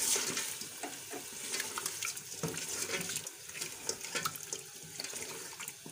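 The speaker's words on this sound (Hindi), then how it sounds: "गर्दनें जो थी चिकन की वो फ्राई हो रही हैं और इन्होंने ऑयल भी सेपरेट कर दिया है" Chicken necks fry in oil with crushed green chilies for an Irani pulao. A steady, close crackle and hiss continues throughout, with scraping and stirring as the mixture is turned in the pot.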